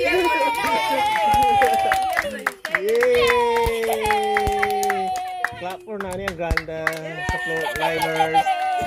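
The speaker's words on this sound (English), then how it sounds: "Clap everybody, clap." Family members clapping at home in an irregular, uneven patter, mixed with loud cheering and excited talking and singing-like voices throughout.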